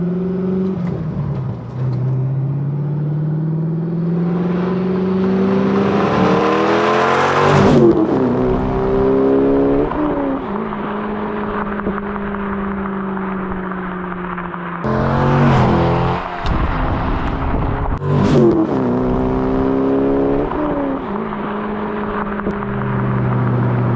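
A deep Corvette V8 engine revs up repeatedly, rising in pitch with each throttle blip and dropping back to a rumbling idle, loud and close.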